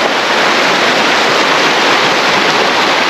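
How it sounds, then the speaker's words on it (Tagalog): River water rushes at a free riverside campsite as a loud, continuous broadband roar with no breaks or voices. "Yung tunog ng tubig,"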